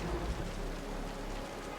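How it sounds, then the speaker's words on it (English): Heavy rain in the video game Wuthering Waves, a dense steady downpour with a low rumbling undertone like distant thunder, continuous and enveloping. "The rain's getting heavier."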